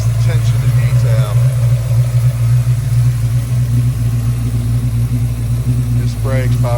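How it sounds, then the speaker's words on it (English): A 1972 Chevrolet C10 truck with ceramic coated headers, its restored engine running at a steady low rumble close by, while people talk over it. "Strong running motor."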